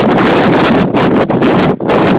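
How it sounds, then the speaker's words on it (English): Strong wind roars steadily across the microphone, buffeting loudly with a few brief dips before gusting again. "Pretty windy."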